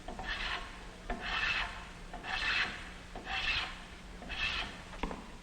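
A hand plane shaves wood in five steady, rasping strokes, each about a second long, evenly spaced and close by, in a 1950s industrial arts shop.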